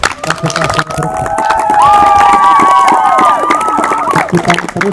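A crowd at a scout Dewan Ambalan installation ceremony keeps up loud, close clapping while young voices shout and cheer over it in long rising calls, the noise swelling in the middle before easing back.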